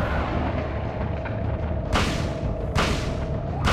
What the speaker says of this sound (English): like a sawed-off double barrel shotgun, I can fire it 6 times before having to reload